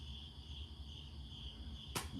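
Crickets chirp steadily at night under a moonlit sky, a faint, continuous high trill running throughout with a brief sharp click near the end.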